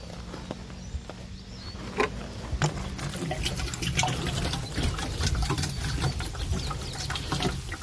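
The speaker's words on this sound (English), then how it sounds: "I'm going to go ahead and give it a little bit more water." Water pours into a garden compost bin being set up hugelkultur-style, a continuous close splashing and trickling flow with a few light knocks, no talking.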